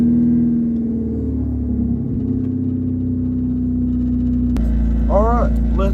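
A 1994 Honda Civic with a manual transmission and a new CV axle pulls away, its engine giving a steady, close low rumble that swells slightly near the end, with a voice briefly heard over it.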